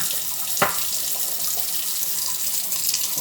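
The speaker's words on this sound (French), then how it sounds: "on rince le caillou" Tap water running steadily as a Japanese sharpening stone is rinsed under it, a close, continuous splashing hiss with a brief sharper splash near the start.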